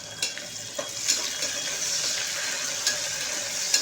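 Chopped tomato fries with lightly browned onion in a pan, giving a steady close sizzle and hiss with a few soft stirring clicks.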